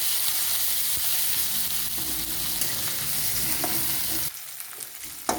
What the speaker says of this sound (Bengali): কাঁচা লঙ্কা, একটু ভেজে নেব, কাঁচা গন্ধটা যাতে চলে যায়